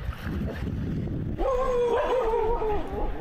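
Street dogs on a Koh Samui beach break into barking and yelping partway through, several close, strained howl-like cries overlapping after an ambient start.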